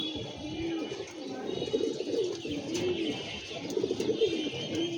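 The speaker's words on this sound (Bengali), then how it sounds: "আমাদের ইমরান ভাইয়ের বাচ্চা এগুলা কবুতরের।" Several young pigeons in a loft coo steadily in low, rolling calls, close by, with a constant background hiss and no talking.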